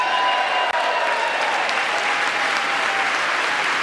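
Sustained, dense applause from a large audience reacting to a Donald Trump speech line, loud and continuous throughout with a faint crowd murmur underneath.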